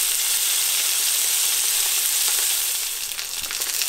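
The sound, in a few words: salmon steaks frying in a pan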